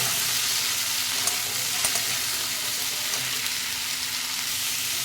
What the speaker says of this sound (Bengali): এখানে আমি সব রকম সবজি নিয়েছি, এবার ঢেলে দেবো এর মধ্যে। সব সবজিগুলোকে ভালো করে নাড়িয়ে নেব।